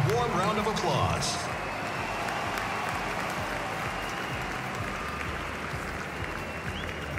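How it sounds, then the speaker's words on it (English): A crowd in a tennis video game claps in sustained, even applause that fills the whole stretch, fairly loud with a brief swell at the start. "Please give the players a warm round of applause."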